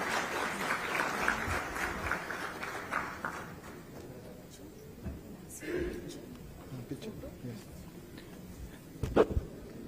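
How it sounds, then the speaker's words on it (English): A conference audience at an aerospace event gives a short round of applause that quickly dies away, followed by quiet room noise with a few isolated sounds and brief speech. "A big round of applause, please."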